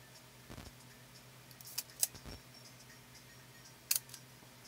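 A handful of sharp mechanical clicks from the shutter of a Canon Demi EE17 half-frame film camera, spaced irregularly against a quiet background hum.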